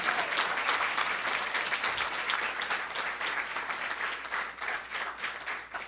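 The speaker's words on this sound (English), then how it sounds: "So a big round of applause for our chefs." An audience at a copper skillet cook-off competition applauds the chefs, with dense, sustained clapping from many hands. It holds at an even level throughout.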